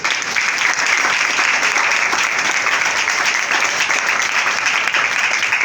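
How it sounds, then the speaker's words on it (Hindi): Church congregation applauding during a sermon, dense sustained clapping from many hands, loud and close, continuing throughout without a break. "तालियां बजाएं दो।"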